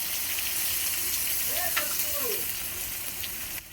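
Red chili paste sizzles in hot oil, a loud, steady frying hiss with stirring scrapes throughout and faint voice traces in the background.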